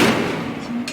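A burst of Incendio fire magic cast in the game Hogwarts Legacy, a loud rushing, crackling blast that fills the whole second and trails off without a break.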